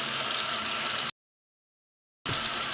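Tap water running steadily into a basin during ablution nose rinsing, a continuous hiss cut by a sudden silence before the flow resumes.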